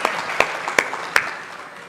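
Clapping in a devotional setting during a talk on the Ramayana: a few sharp, separate hand claps over a steady background hum, close and fairly loud, with no voices.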